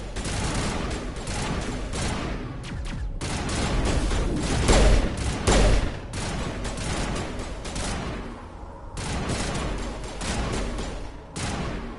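Rapid bursts of gunfire from a firefight in Mass Effect Legendary Edition, dense volleys of shots with brief gaps, loud and sustained over twelve seconds with no talk.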